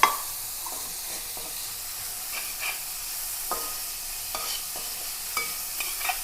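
Capsicum and cabbage stir-fry in a pan for chicken noodles, a bright, continuous sizzle broken by frequent light scrapes and clinks of stirring.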